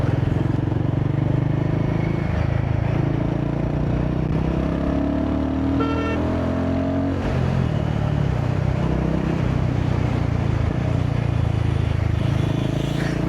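A Royal Enfield Guerrilla 450 motorcycle engine out on the road, a steady, loud drone with heavy wind rush that holds throughout and has no pauses.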